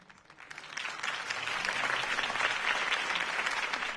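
A crowd applauds Harvey Dent's campaign speech, the clapping starting thin and quickly swelling into a broad sustained round that holds steady, no voices over it.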